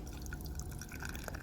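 Grapefruit IPA beer pouring from a can into a glass, a soft, steady trickling and fizzing stream running close by for a second and a half, quiet and without talk.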